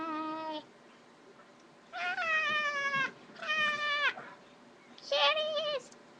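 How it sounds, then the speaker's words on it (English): Several cats meow in drawn-out, rising-and-falling calls, four distinct cries spaced over a few seconds with quiet gaps between, fairly close and clear. "Kitties! Kitties!"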